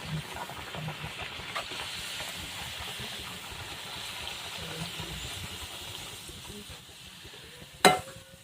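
Puris frying in hot oil for a traditional offering give a steady, close sizzling hiss that runs throughout, broken near the end by one sharp metallic clank.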